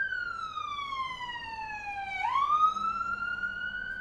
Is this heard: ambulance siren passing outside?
yes